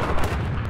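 XM rifle fire in a Battlefield 4 match, a dense continuous burst of loud, close gunshots with booming low end filling the whole moment.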